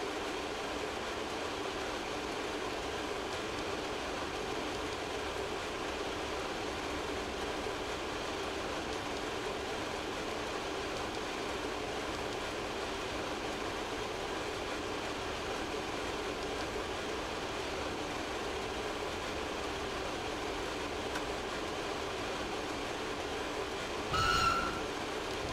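In Train Simulator 2020, a RAe TEE II Trans-Europe Express electric train runs on the Gotthard line with a continuous, even rolling rumble. A brief whistle-like tone rises near the end, and no one talks.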